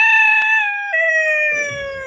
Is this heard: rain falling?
no